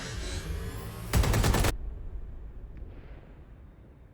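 Explosions in the video game Watch Dogs Legion set in London, heard as a loud burst of rapid blasts lasting about half a second after a rumbling buildup, then a decaying low rumble fading out, with no speech.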